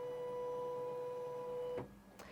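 A Bernette B70 Deco embroidery machine whirs with a steady motorized tone as it moves the needle into position, then stops abruptly and gives a couple of soft mechanical clicks.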